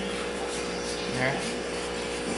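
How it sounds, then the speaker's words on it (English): Brush scrubbing dirt off a shoe, a continuous close, coarse rubbing and rasping with a slight rhythmic back-and-forth, while a voice speaks faintly underneath. "So just scrub off the dirt."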